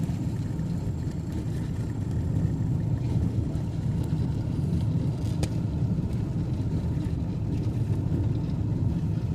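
Steady rumble of a car driving on a road in the rain in St Elizabeth, a continuous, moderately loud engine and road noise with no talking.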